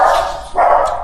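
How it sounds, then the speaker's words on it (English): Dogs barking at a door indoors, two loud close barks in quick succession. "My dogs heard something at the door."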